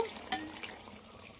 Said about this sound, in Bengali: এবার এতে জল দিয়ে দেব, অল্প করেই জল দেব।